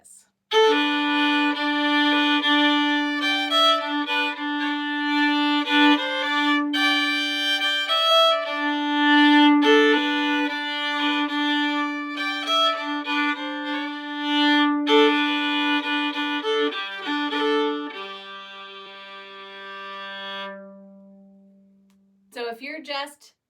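Old-time fiddle tune Shove The Pig's Foot played as a beginner-level arrangement, a steady bowed melody with clear sustained notes running continuously for about twenty seconds, ending on a held low note before a brief pause.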